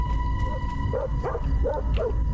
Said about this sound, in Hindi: किसे भौंक रहा है?